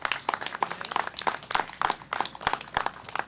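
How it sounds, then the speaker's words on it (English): An audience at a press event applauds local leaders with a steady burst of many hands clapping, dense and lively, close by and continuing throughout without talk. "let's give them another round of applause"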